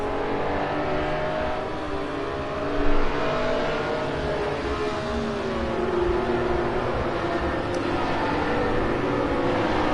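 Race cars in Project Cars 2 drive at Monza in a historic race, their engines making a steady, loud, continuous drone with shifting pitch throughout, with one brief louder swell partway through.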